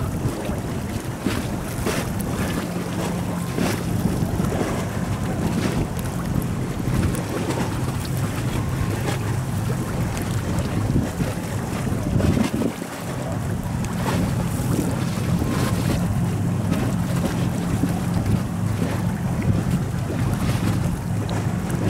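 Two speedboats racing side by side far out at sea, a loud steady engine roar mixed with rushing water and heavy wind buffeting the microphone throughout.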